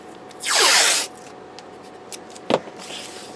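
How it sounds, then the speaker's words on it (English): Packing tape is pulled off the roll in one loud tearing screech, then wrapped around a cardboard roll-top box, leaving a quiet pause and a single sharp tap as it settles. "I'll just put a bit of tape around"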